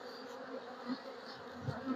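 Honeybees buzz in a steady, close drone while a beehive is opened for inspection, with the hum rising and falling slightly throughout.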